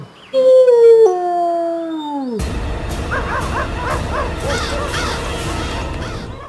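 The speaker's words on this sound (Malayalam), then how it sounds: "അയ്യോ പട്ടികൾ, ജീവൻ വേണമെങ്കിൽ ഓടിക്കോ." Cartoon dogs in an animated children's story bark and howl together, a loud, dense chorus of yelps following a sustained tonal howl at the start.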